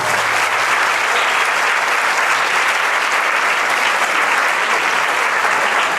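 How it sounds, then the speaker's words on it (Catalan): Loud, sustained applause from a theatre audience at a Catalan community show fills the space evenly and without a break, with no voices standing out. "Un fort aplaudiment per ells, sisplau"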